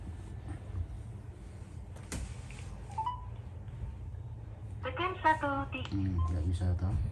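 A phone's keypad sounds a short series of dialing tones, one clear beep and then a quick cluster of tones, while someone talks nearby at a building site.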